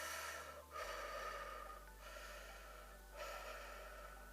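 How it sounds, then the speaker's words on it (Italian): Slow, quiet human breathing during a guided relaxation, soft breaths in and out repeating at an unhurried pace in a hushed room. "Adesso continua a respirare."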